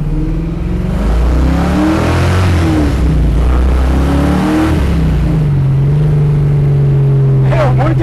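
A powerful Mustang Shelby GT500 engine revs hard and loud, pitch climbing and falling in repeated surges before settling into a sustained high drone, very close.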